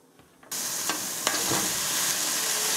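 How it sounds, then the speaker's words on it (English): Broccoli and carrots tipped onto caramelized onions in a hot pan for beef lo mein, a sudden loud burst of sizzling that holds steady and close, with a couple of faint spatula taps and no talk. "take our broccoli and carrots and add this to our caramelized onions"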